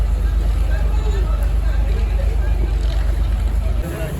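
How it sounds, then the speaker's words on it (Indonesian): Large PELNI passenger ship pulling away from Bima port, a loud continuous low engine rumble with wind and water noise and faint crowd babble on deck. "ini kapal kita sudah bergerak meninggalkan Pelabuhan Bima"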